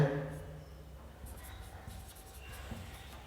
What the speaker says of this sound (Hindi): आइए बच्चों कुछ उदाहरण लिखते हैं